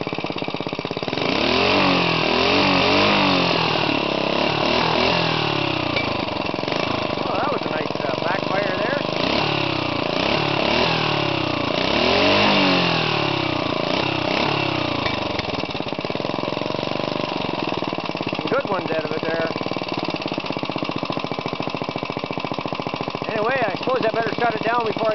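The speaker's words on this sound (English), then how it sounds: "Engine's got a bit of a cam in it, so it takes a bit when it idles." A 5-horsepower go-kart engine with a mild cam and a homemade FloMastr muffler idles unevenly, a continuous loud lumpy rumble with surging revs throughout, while a person talks nearby.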